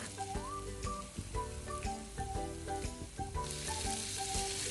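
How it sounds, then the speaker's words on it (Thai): Garlic and chili stir-fry in a little oil in a wok over medium heat for Thai basil beef, giving a steady close sizzle with spatula clinks, partly under background music. "เอากระเทียมกับพริกเนี่ยลงไปผัดให้หอมค่ะ"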